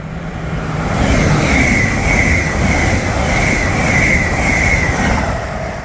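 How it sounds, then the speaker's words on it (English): A Class 807 train passes through Berkhamsted station, a steady loud rush of wheels and air building within a second and holding for several seconds, with no voices. "Okay then, passing through now is an 807."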